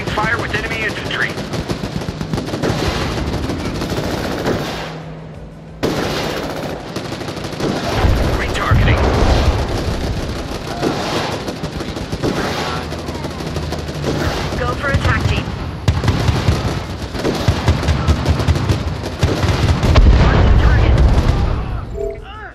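Gunfire trades with enemy infantry in the video game Crossfire: Legion, continuous loud bursts of automatic fire and booms layered over game music and radio voices, with a brief lull near five seconds.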